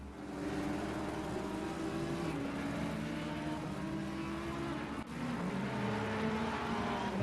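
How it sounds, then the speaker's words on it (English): Engines of GT3 race cars in a sim racing game at Donington Park, a steady loud drone with several overlapping engine notes rising and falling in pitch as cars accelerate, continuous throughout. "Looks like Peter's took Michelle and is now accelerating away"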